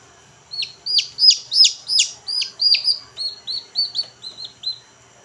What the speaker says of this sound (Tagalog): Ito ang una kong pinapakain sa kanila mga kabakyard. Sa mga bagong pisa.